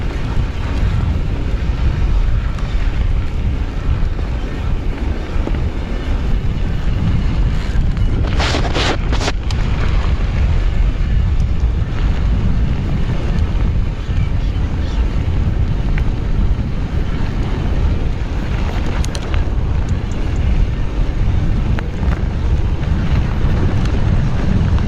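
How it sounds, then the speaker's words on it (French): Strong headwind buffeting the microphone on a Commencal Meta Power SX e-mountain bike with a Bosch motor, heading into a descent through woodland; a loud, steady roar runs the whole time with brief gusty bursts and no talk. "Vent de face là par exemple"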